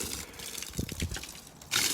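Rainwater pours off the pooled tarp of a Kammok Sunda 2 platform tent set up in hammock mode, a short watery gush and trickle that swells loudly near the end of the clip.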